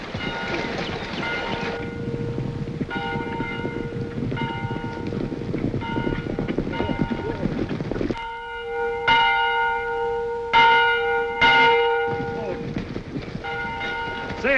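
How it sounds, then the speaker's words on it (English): A bell clangs repeatedly, ringing out in a steady slow rhythm over a background rumble, then sounding a few more louder strikes after a pause, in an old Western film. "There's the bell."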